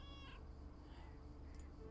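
A single cat meow in a mail-delivery video game rises and falls clearly for about a second over a low background hum.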